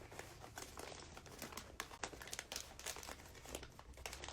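Gift wrap crinkles and rustles up close as it is folded around a present, giving a steady run of soft crackling and crumpling sounds with small sharper crinkles throughout.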